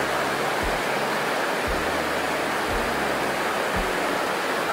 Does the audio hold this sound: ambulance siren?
no